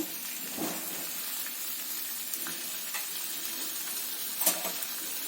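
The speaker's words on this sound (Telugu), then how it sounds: "కొద్దిగా జీలకర్ర వేస్తున్నాను." Cumin seeds crackle and sizzle steadily in hot oil in a home kitchen, a close, continuous frying hiss with a few sharper pops and no talk.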